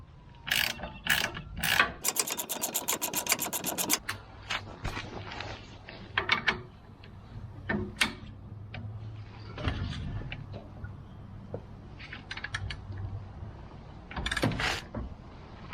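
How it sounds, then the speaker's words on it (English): Nuts on an Old Man Emu (OME) lift kit being tightened down with a ratcheting wrench, giving bursts of rapid near clicking and mechanical rattling with pauses and clanks between strokes. "I'm going to tighten down the nuts here and"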